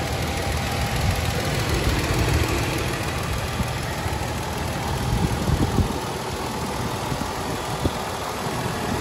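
A Toyota FJ Cruiser's 4.0 liter V6 engine idles steadily up close, a low even rumble with faint ticking, no voices.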